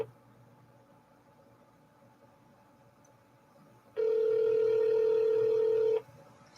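Indoors, a single steady telephone ring tone sounds for about two seconds, loud and alone over a low background hum, with nobody answering.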